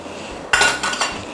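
Mocha mug cake ingredients, including baking soda and baking powder, are stirred in a mug with a metal spoon, giving a few bright clinks and scrapes against the mug, close and alone.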